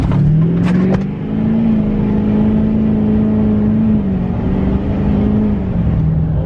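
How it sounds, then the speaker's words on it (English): A 2012 Duramax diesel truck makes a boosted launch, its engine roaring loudly and climbing in pitch as it accelerates hard, then holding a sustained high drone before easing slightly near the end. "Zach Schaff did his first boosted launch in a diesel truck."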